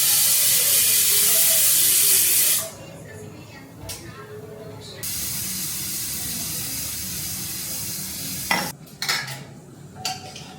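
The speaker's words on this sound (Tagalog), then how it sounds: "Mag-on muna ako ng tubig." A tap gushes loudly into a sink in a home kitchen, cuts off, then runs again more softly before clattering dishes and utensils break in near the end.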